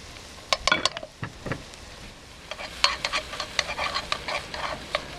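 Shrimp paste and chili frying in a pan for clams in green curry sauce, with close crackling sizzle and scraping stirring strokes, sharp pops scattered throughout, no voices.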